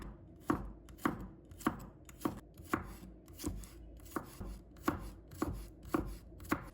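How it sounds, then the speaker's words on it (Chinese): A knife slices garlic cloves on a cutting board, making about a dozen crisp, evenly spaced chops in a steady rhythm, close and clear with no talking. "把它切成片，"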